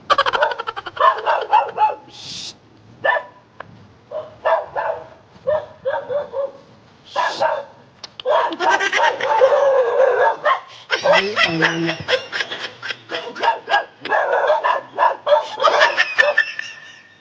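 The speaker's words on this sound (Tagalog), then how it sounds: "Ang tapang ng mga aso." Several dogs bark in sharp bursts at night, some high yips mixed in, with people talking over and between them nearby.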